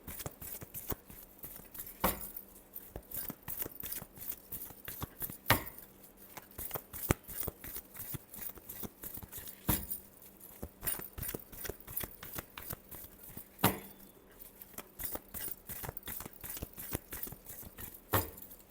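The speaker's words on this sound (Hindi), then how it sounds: "last shuffle" Tarot cards are shuffled by hand at close range, a quick papery riffling patter repeated in bursts with sharp taps and slaps between them.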